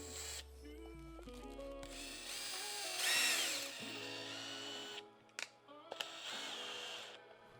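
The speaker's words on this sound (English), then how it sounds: "I'm going to go ahead and just drill into this one" A power drill whirs in several bursts drilling into wood for a turkey tail and beard mount, revving up and winding down between short pauses, close and fairly loud, with a few clicks and knocks.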